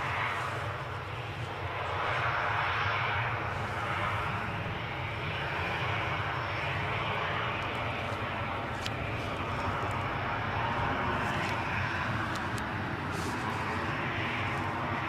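Aircraft at Newcastle International Airport make a loud, steady jet engine roar close by, with no breaks across the whole stretch.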